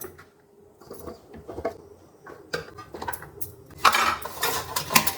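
Garlic cloves dropped and layered into a glass jar for a fermented onion-garlic pickle, giving a run of light clinks and taps, quiet at first and then louder, denser clattering near the end.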